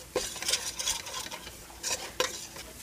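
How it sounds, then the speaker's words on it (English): A spoon stirs flour into a pot for a butternut squash soup. It scrapes and clinks against the pot in short, irregular strokes over a faint sizzle, close by and quiet, with no talking. "we're going to start stirring in this flour real good here"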